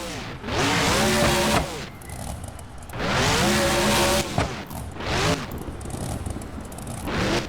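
A BeamNG monster truck launches off a big racing ramp in a video game, its engine roaring in loud revving bursts that rise and fall three times, with a brief dip between each surge.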